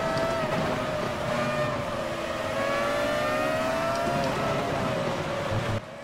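An F1 car's V10 engine in the racing game Automobilista screams loudly and continuously, its pitch rising and falling through the gears as the car accelerates, then cuts off sharply near the end.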